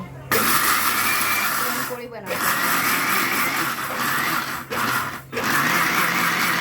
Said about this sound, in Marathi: इकडं मिक्सर वगैरे काम एकदम जोरदार चालू आहे